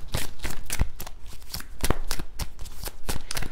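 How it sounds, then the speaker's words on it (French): Tarot cards shuffled and drawn by hand, a quick string of crisp riffles and slaps heard up close, with no talking. "On va tirer une dernière carte."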